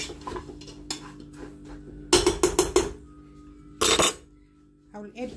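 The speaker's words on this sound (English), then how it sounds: "now I'm gonna mix everything together" Metal spoon scrapes and clanks against a pot while mutton karahi ingredients are stirred together, loud bursts of clatter separated by quieter pauses, close and unaccompanied by talk.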